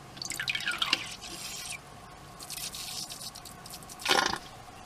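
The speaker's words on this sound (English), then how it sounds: "Let's see if you can squirt the red rock the farthest." Small toy squirting jets of water at a red rock, a few short splashing spurts and drips in bursts, fairly close and quiet.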